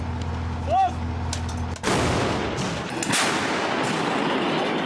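A single heavy artillery boom fires close by, followed by a long rumbling roar and a second blast echoing out, after a brief whistle.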